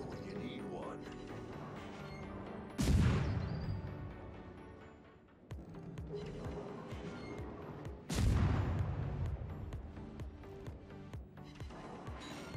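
Two heavy booming salvos from the 128mm guns of the Tier VI German destroyer Ernst Gaede in World of Warships, each decaying into rumbling echoes, with smaller shots and battle noise between them.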